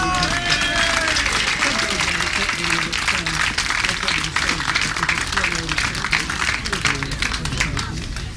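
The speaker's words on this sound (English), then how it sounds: "I'm sure we'll get a big round of applause as he comes up." Crowd applause at the 2002 International Battle of Britain grasstrack meeting as a presenter comes up for the awards: a dense, steady wash of clapping that runs beneath continuous public-address talk throughout.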